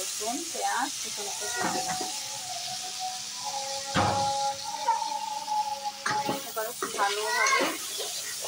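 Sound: potatoes, garlic and onion frying in hot oil in a wok

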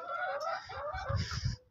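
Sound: laying hen clucking

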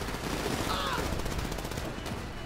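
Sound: gunfire in video game GTA V

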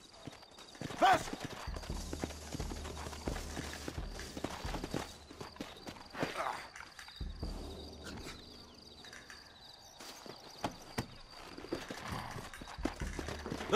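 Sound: horses galloping in video game Red Dead Redemption

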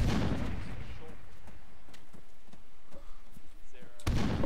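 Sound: frag grenade explosion in a tactical shooter video game

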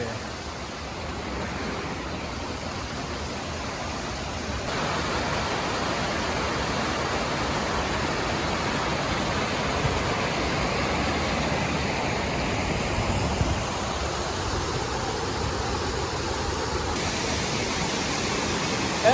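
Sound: waterfall

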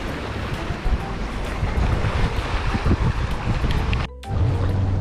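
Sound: lakeside ambience at Lake Michigan in Chicago

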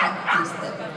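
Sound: dog barking at the track

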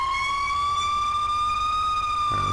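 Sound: fire truck siren in the video game GTA 5

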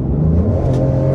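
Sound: modern car revving hard in sport mode

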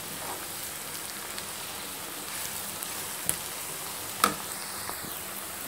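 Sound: onions frying in oil

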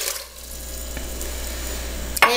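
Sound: water poured into a cooking pan

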